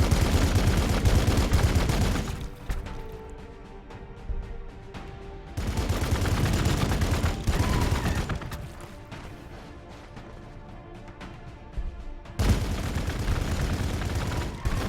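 Dense, loud bursts of automatic gunfire from a Warhammer 40K battle against Necrons, in long sustained volleys broken by short quieter gaps with distant rumbling between them.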